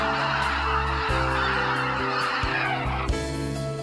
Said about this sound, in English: You can see tens of thousands of wild geese flying south for the winter near the Daesongdong Reservoir.